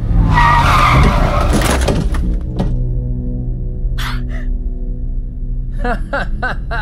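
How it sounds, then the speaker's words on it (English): A car brakes hard with a loud tire skid lasting a couple of seconds, followed by a dull thunk and a few sharp knocks. "Heavy on the brakes there, fella."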